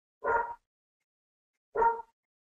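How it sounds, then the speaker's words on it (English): A dog barks twice, with two short, moderately loud barks about a second and a half apart and silence between them. "That's not my dog, the one that's barking."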